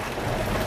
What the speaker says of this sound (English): so we had to go and it started raining.